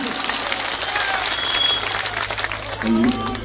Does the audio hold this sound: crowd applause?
yes